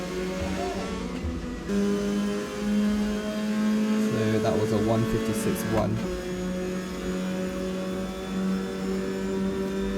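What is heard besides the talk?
race car engine in Assetto Corsa video game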